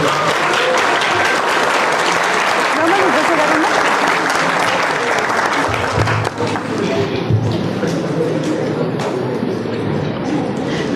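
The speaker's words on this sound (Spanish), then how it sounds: "Un fuerte aplauso, por favor." Sustained, loud audience applause fills the hall at a lecture-style interactive conference, steady dense clapping throughout with some crowd murmur mixed in.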